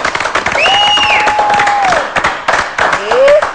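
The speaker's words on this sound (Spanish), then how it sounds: "Un aplauso para él." Studio audience applause for lucha libre wrestler Andresito on a Colombian television show, clapping and cheering under prominent whistles and shouts, swelling toward the end.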